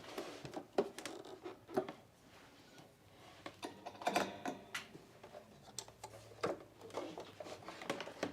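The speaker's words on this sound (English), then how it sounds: "I'm just threading my machine." A home sewing machine being threaded gives quiet, irregular clicks and light mechanical ticks, close by and intermittent.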